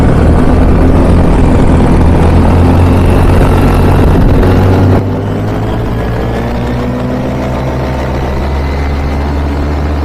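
A paramotor engine in flight over bumpy winds, with a loud, steady propeller drone that drops suddenly to a lower, quieter idle hum about halfway through and then holds steady.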